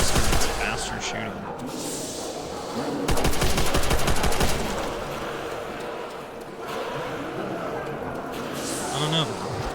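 Rapid automatic fire from a Thompson submachine gun in Call of Duty: World at War Zombies on the Nacht der Untoten map, loud sustained bursts with heavy bursts near the middle, mixed with game noise and talk.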